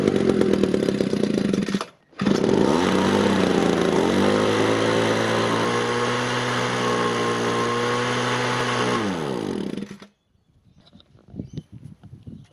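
A Ryobi leaf blower runs with a loud, close, high whine, cutting out briefly near the start, then revving and holding a steady roar for about eight seconds before shutting off, leaving faint handling noises.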